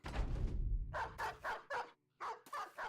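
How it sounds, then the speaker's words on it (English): War dogs in the video game Battle Brothers bark in a short burst of six or seven sharp, close barks with brief gaps, clear and alone. "Okay, a couple war dogs."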